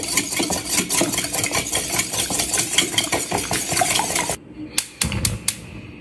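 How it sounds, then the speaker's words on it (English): Eggs are whisked in a bowl, a fast, continuous clatter of wire tapping the sides that is loud and close. It stops after about four seconds, leaving a few sharp clinks. "So first you're going to want to crack your eggs. And you're going to whisk it."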